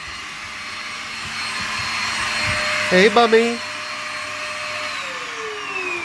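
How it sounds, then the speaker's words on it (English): A vacuum cleaner hoovers up after grinding work, its loud steady whine running the whole time, with a brief higher voice calling out partway through. "it's currently hoovering"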